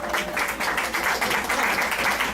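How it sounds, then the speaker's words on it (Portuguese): An audience claps for author Maria José Assis at a book talk, a brief burst of dense, loud applause with rhythmic clapping throughout. "Palmas para Maria José."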